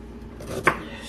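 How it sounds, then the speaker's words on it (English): A single sharp knife chop through ginger on a cutting board, one clear crisp knock near the end of a short quiet stretch. "So now this is the ginger. So just cut it up into little pieces."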